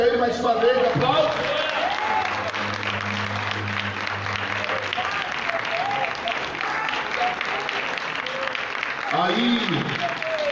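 A church congregation applauds loudly and steadily for about ten seconds, dense clapping filling the room, with a voice and some cheering rising over it near the start and again toward the end.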